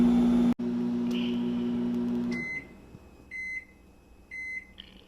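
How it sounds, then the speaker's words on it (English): A microwave oven heating a meal hums steadily and close up for about two seconds, then stops, followed by a series of sharp electronic beeps. "on your microwave, there'll be a button that says time"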